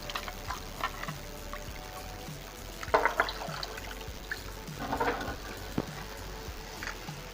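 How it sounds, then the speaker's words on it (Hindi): Water swirled into a pan of frying onion and ginger-garlic masala, giving a soft sizzle with a few brief splashy pours and trickles over a constant background hiss. "और इसके अंदर थोड़ा सा पानी घुमाऊँगी।"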